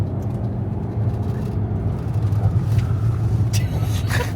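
An older Chevrolet Corvette Z06 sports car driving hard into a corner, its steady low engine and road drone continuous and close throughout, with brief voices faintly over it.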